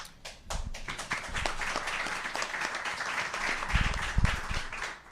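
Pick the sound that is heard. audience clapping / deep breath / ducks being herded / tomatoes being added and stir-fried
audience clapping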